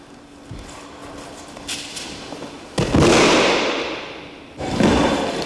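Judo throw with a body slamming onto the mat during a moving outer-reaping leg sweep drill, two heavy thuds a couple of seconds apart, close and loud, with softer shuffling before.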